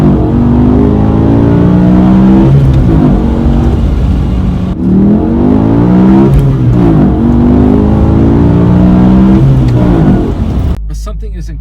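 A BMW M5 E60 with its 500 horsepower V10 revs and accelerates through several gears, a loud close engine drone rising in pitch and dropping at each shift, cut off abruptly at the end.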